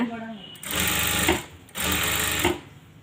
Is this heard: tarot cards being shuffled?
no